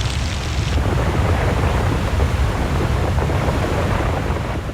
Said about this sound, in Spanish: En un momento, el canal se ve inundado por un río de rocas.